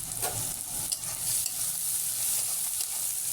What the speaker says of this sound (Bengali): পেঁয়াজগুলো আমি বাদামি কালার করে ভেজে নেবো এই পেঁয়াজের মধ্যে দিয়ে দিচ্ছি দুটো এলাচ দারচিনি আর তেজপাতা